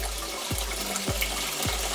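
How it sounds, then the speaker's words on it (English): Water runs steadily from a tap into a pot, a continuous splashing gush with a few soft thumps, no voices. "fill it up halfway with water"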